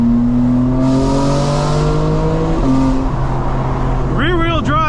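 A 2024 BMW M4 Competition xDrive engine drones loudly with a steady, rising tone, then revs up sharply in quick bursts near the end.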